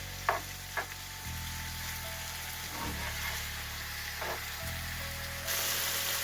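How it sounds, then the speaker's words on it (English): Chicken frying in a pan over a high-medium flame, giving a steady, close sizzle broken by a few soft stirring scrapes, with no talking. "Then I'm going to mix that chicken up. Fry this for about 5 minutes on high medium flame."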